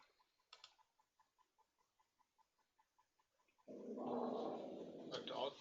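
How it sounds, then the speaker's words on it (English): A dog growling nearby comes through as a series of short, evenly spaced rumbling pulses at low volume, then is covered by a sudden loud burst of broadband noise. "a dog that's growling"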